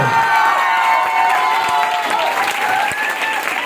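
Audience at a motivational training speech giving loud clapping mixed with shouting and cheering, a dense continuous crowd roar with raised voices throughout.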